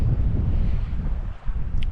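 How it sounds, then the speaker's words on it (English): Strong icy wind gusting on the Baltic coast in sub-zero cold, buffeting the microphone with loud low rumbling that swells and dips, easing briefly before surging again. "it's a right icy wind as well"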